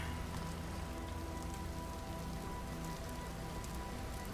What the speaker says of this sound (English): Hard rain. Yep, it's raining.